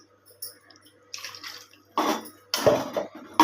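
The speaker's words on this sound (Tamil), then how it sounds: "இப்போ மறுபடியும் கொஞ்சம் தண்ணி ஊற்ற போகிறேன்." Water splashes and gurgles into a metal pot of drumstick kara kuzhambu curry in a few short bursts, close by, with faint clinks between pours.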